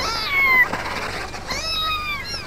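A cat meows close by in a few distinct, rising and falling calls, with a short pause between them and no voices over it.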